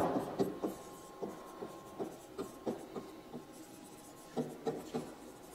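Chalk or marker strokes on a classroom board during a physics lesson: a series of short scratchy taps and scrapes in an irregular rhythm, fairly close and quiet against a faint background hum.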